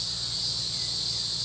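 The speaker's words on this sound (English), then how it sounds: "sitting out here with my cicada" Cicadas drone in a garden on a summer evening. The high buzzing chorus is steady and dense and never lets up, with a low background hum beneath it.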